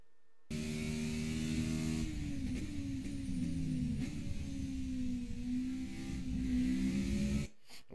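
In a racing video game, a race car engine drones steadily with rising and falling revs as light throttle is applied through a corner, then cuts off abruptly after several seconds.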